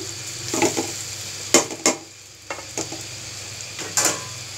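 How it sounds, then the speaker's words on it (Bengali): Rice with peas fries in a pan for egg dum biryani, a soft steady sizzle broken by several loud scrapes and stirs of the spoon against the pan, close and alone with no talk. "এবার রাইসটাকে আমি আরও কিছুক্ষণ ভেজে নেব"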